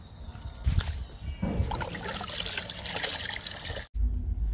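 Papaya peel liquid fertilizer, soaked two to three days, poured onto fruit plants such as a fig sapling: a steady close splashing trickle runs for a few seconds, briefly cut off, then resumes.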